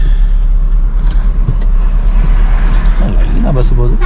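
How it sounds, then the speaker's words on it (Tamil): A bus passes on a road in Ooty in the Nilgiris, India, its low engine rumble steady and close under traffic noise, with a passing vehicle tone sweeping near the end while people talk. "லைனா பஸ் போகுது."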